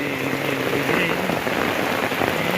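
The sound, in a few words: rain falling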